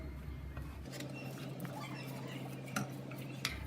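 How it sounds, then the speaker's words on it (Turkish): Half a kilo of ground beef is browned in a pan, with a steady low sizzle while a utensil scrapes and clinks against the pan in scattered strokes. "500 gram dana kıymayı kavurmaya başlıyoruz."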